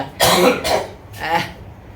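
A person with a cold coughs during unsettled weather, giving three harsh, close coughs in quick succession, the first two nearly back to back and the third after a short pause.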